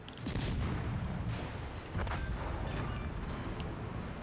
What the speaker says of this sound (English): Enemy battleship destroyed. That exploded right in the command center.